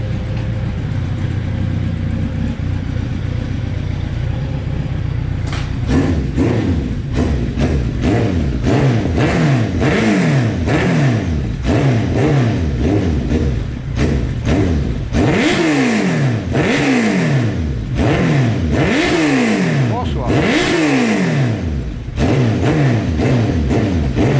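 A Kawasaki Z1000 sport motorcycle engine idles, then is revved again and again in sharp bursts, loud and close, its pitch rising and falling with each throttle blip.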